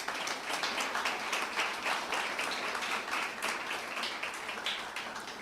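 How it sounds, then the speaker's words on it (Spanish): Congregation applauding at a Spanish-language religious service, a dense, steady wash of many hands clapping together that holds for the whole stretch and tapers slightly at the end. "Démosle un fuerte aplauso al Padre Eterno."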